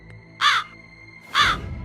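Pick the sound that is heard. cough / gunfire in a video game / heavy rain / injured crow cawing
injured crow cawing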